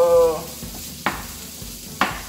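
Bacon sizzles in a pan for a tuna casserole, a constant close frying hiss broken by two or three sharp scrapes of a utensil stirring, with a brief tonal hum at the start.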